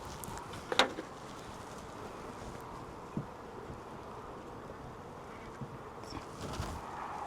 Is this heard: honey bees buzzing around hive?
yes